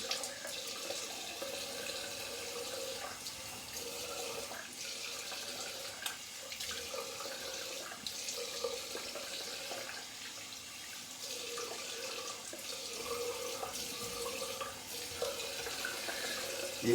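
A tap runs steadily into a sink while a straight razor is rinsed, a continuous close splashing hiss with small shifts as the stream is interrupted.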